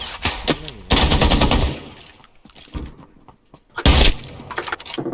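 Loud, close gunfire in the video game Ring of Elysium: a few sharp automatic bursts with breaking, shattering glass and clattering noises between them.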